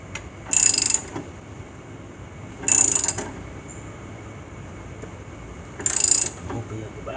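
An Extreme Max jack ratchets while lifting a vehicle, producing three separate bursts of loud, close, scratchy ratcheting about every two and a half to three seconds over a steady background hum.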